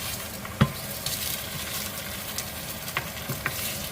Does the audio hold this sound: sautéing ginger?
yes